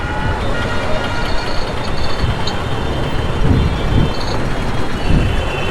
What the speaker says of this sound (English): You see this traffic?